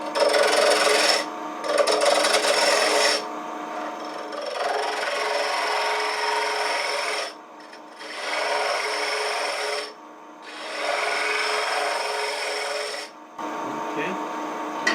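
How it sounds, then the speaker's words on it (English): Wood lathe turning a tenon on a wooden spinning top, close harsh scraping of the tool on spinning wood in several long passes separated by brief pauses, with the lathe humming underneath. "I'm going to go ahead and turn a tenon on it"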